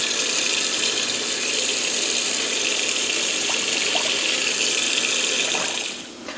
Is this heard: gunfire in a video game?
no